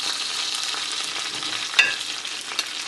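Chinese dumplings fry in hot oil with a steady, bright sizzle and a couple of sharp pops and spatters. The frying is close and continuous, with no voices.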